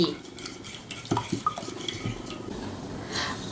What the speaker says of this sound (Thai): จากนั้นผสมให้เข้ากันให้เกลือและน้ำตาลทรายละลายดี